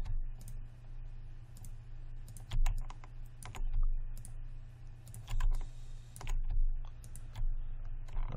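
Keyboard keys and mouse clicks while modeling a worm gear in Maya 2017, a steady run of close, crisp taps and clicks in irregular clusters over a low hum, with no talk.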